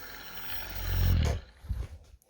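The motor of a crash-damaged 3D printed RC plane gets a quick throttle bump: a low buzzing whir swells for about a second and cuts off, followed by a few soft handling knocks.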